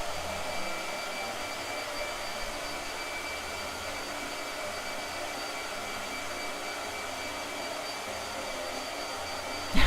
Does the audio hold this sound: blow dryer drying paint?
yes